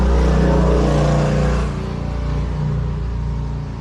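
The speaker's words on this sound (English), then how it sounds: "Sorry, motorcycle going by." A motorcycle goes by outdoors, a loud engine roar that is strongest at the start and then fades as it moves off into a softer drone.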